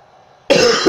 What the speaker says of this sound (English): I still do have a cough.